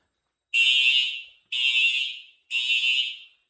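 A Simplex fire alarm horn sounds after a pull station is activated in a home test setup, giving three loud, even, piercing blasts at one-second intervals with clean silence between and no talk.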